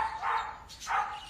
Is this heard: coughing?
no